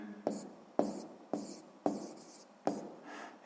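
A pen writes an answer on paper in five short, close scratchy strokes at a steady pace, each starting with a sharp tap and then fading as a rough scrape.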